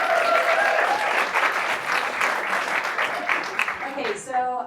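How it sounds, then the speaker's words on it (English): An audience at a sales talk applauds speaker Nikki, a full round of clapping that fades near the end as a voice begins speaking. "So can we have a round of applause for Nikki,"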